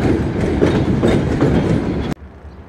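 Train rolling through North Railway Station in Bucharest, Romania, the country's largest station, with a loud steady rumble and rhythmic clatter of wheels over rail joints that cuts off abruptly near the end.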